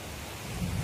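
Heavy rain pours steadily with a low rumble of thunder building toward the end of a brief moment, loud and close, with no voices.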